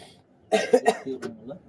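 A few rough, close coughs in quick succession, loud and throaty, with a hint of voice trailing after them.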